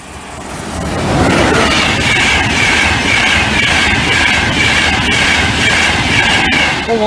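A train rushing through the Cromwell Lane level crossing, swelling within the first second into a loud, steady roar of wheels and rail noise with a bright whine on top, close by and holding to the end.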